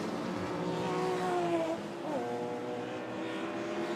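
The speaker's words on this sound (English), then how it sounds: "Power accelerating as hard as they can over the crest, down into Pilgrim's Drop, into the compression" Classic sports cars at the Brands Hatch GP circuit accelerating hard over a crest toward Pilgrim's Drop, engine notes rising and shifting pitch in the distance, moderately faint with a drop and recovery in the middle.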